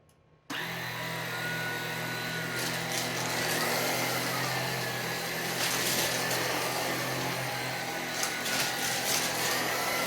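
A Tineco Pure One S15 cordless stick vacuum switches on and runs over a rug, sucking up Cheerios. It gives a loud, close, steady high-pitched whir with occasional brief rattles as pieces are pulled in.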